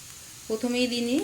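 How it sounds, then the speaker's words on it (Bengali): Chopped garlic sizzles and crackles in hot oil while making chow mein, a steady frying hiss, with a voice starting to speak partway through. "এবারে আমি এর মধ্যে দিয়ে দেবো কুচনো রসুন"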